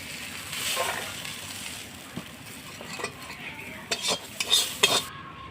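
Bhetki fish fries in oil in a pan under a low sizzle while a utensil stirs and lifts the pieces out. Scraping and clinking strokes come in an irregular series that grows louder toward the end, close and without speech.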